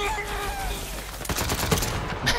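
Rapid bursts of gunfire crackle in quick succession over a steady background din, growing denser toward the end, in the video game Borderlands 3.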